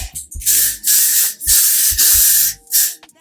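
Hair spray misted over curls to set them, several long hissing bursts from a can with short pauses between, close and loud, with a brief rattle near the end.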